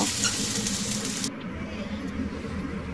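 Steady crackling sizzle of pointed gourd and potatoes frying in hot oil, close and continuous, with a brief brighter hiss at the start that drops away.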